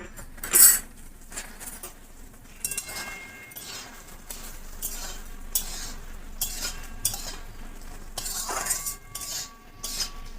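Prawns, fried earlier with salt and turmeric, are added to a taro and potato curry and stirred in a pot, with intermittent spoon scrapes and clinks against the metal over a faint simmering sizzle.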